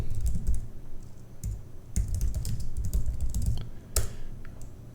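Rapid, uneven keystrokes on a computer keyboard entering a terminal command, close and clear, with a few louder key strikes standing out over a low background hum.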